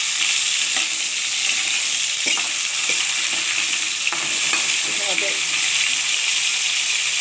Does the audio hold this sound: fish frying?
yes